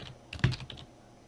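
Keystrokes on a computer keyboard while entering a command for a cryptocurrency command-line wallet: a short, close burst of several quick clicks clustered together, then fading to quiet.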